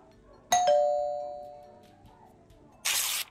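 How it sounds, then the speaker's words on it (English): A doorbell in a horror video game rings with a bright two-tone ding that rings out and slowly fades, followed by a short burst of noisy rustle near the end. "you can ring the doorbell"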